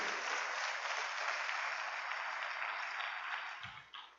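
Congregation in a church service breaks into sustained applause, a thick, even roar of clapping that holds steady and then tapers off, with a brief voice near the end.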